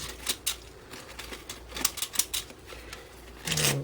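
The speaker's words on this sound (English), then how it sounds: "you can use your different kinds of scissors to make different kinds of shapes" Scissors cut through thin paper in a run of crisp, uneven snips, close and alone, ending with a longer rustling slice.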